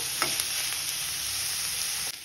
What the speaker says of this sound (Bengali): এটা একটু ভাজা ভাজা করে নেবো।